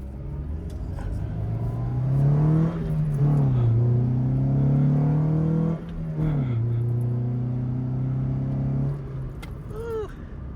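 A 1998 Acura Integra LS with a swapped B20B engine drives along, its engine note rising and falling in a steady, continuous hum with harmonic tones shifting through gear changes, heard from inside the car with no talk.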